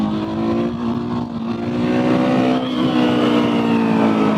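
A Husqvarna 701SM single-cylinder motorcycle revs steadily in second gear while riding, with a loud, close, continuous engine drone whose pitch climbs slightly as it pulls.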